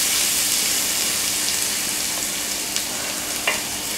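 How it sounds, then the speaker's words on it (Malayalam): Crushed spices sauté in a hot pan for Kerala liver pepper fry, giving a constant close sizzle with faint scraping stirs and no talking. "ജസ്റ്റ് ഒന്ന് പച്ചമണം മാറുന്നതിന് വരെ വഴറ്റിയെടുക്കണം"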